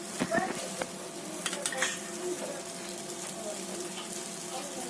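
A buttered Schezwan sandwich toasting in a pan over medium heat, a soft continuous sizzle with a few utensil clinks and scrapes early on, close by.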